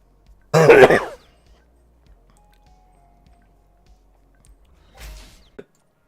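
One loud, close cough near the start, then near silence, followed by a fainter throat-clearing sound toward the end.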